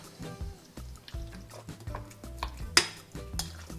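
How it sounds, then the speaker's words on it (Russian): Soft wet stirring and scraping in a bowl, a thick minced meat mixture worked with a utensil, with a sharper clink of the spoon against the side near the end. "Всю эту массу хорошо перемешаем."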